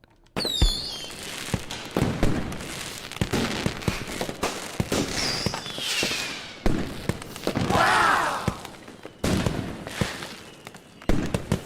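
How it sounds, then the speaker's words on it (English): Fireworks going off in an irregular series of sharp bangs and crackles, with whistling rockets rising between bursts, loud and fairly close. "Explosions. Fireworks."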